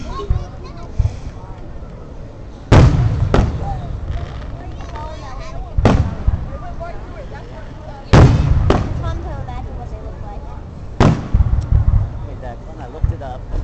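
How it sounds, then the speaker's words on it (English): Fireworks explode in about six loud, sharp bangs, some in quick pairs, spaced a few seconds apart, while children's voices chatter in the background. "Fireworks Part 4."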